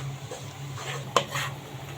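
Flour is stirred as it toasts in a pot for bechamel, giving soft scraping and a single sharp clink of a spoon on the metal, close and quiet with no talking.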